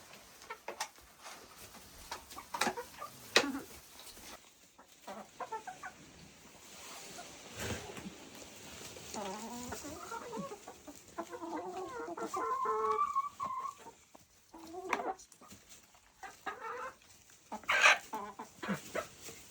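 Hens clucking and calling around a coop, with short squawks and a rooster-like cry near the end, steady and close.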